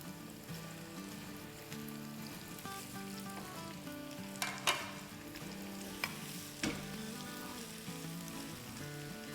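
Sliced green and red bell peppers and a big handful of cabbage stir-frying in a hot pan. A steady, soft sizzle runs throughout with a few louder crackles and scrapes, under quiet tonal background music.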